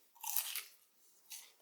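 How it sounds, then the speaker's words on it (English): Two crisp crunches of teeth biting into a spicy snack at a meal, a loud close bite followed by a shorter, softer second crunch, with no talking. "Crunch."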